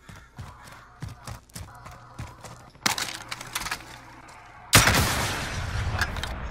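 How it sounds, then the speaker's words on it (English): Gunfire in the video game Warzone: bursts of sharp shots and rapid automatic fire, sparse and distant at first, then growing louder and denser toward the end, with no talk over it. "they're shooting at Lee"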